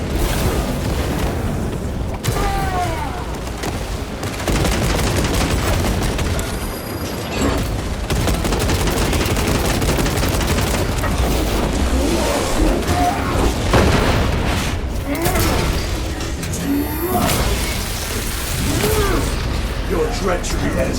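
Frag grenade blasts and heavy combat in Warhammer 40,000: Space Marine 2 make a loud, continuous wall of booms and gunfire lasting the whole stretch, with sharp detonations cutting through the dense battle noise.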